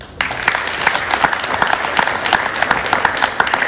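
An audience at a Rwandan youth event claps for about three and a half seconds, dense continuous applause that starts abruptly and stays loud and near, with no talking over it.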